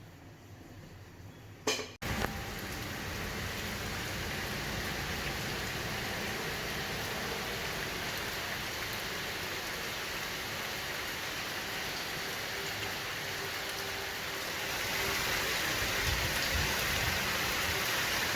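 Continuous steady rainfall patters on surfaces around a house surrounded by trees, a brief knock near the start, then the downpour grows slightly heavier toward the end.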